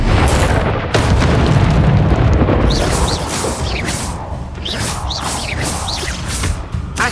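A deep fiery blast from the Incendio fire spell in the Hogwarts Legacy video game, a loud sustained roar with a booming onset and crackling bursts that linger over several seconds.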